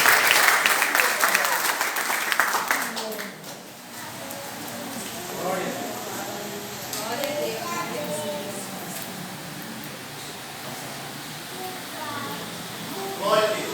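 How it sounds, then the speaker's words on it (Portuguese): A church congregation bursts into loud, dense applause during an evening service. After a few seconds the clapping drops away, and a voice continues speaking over faint background sound. "Aplauda o Rei da Glória nessa noite."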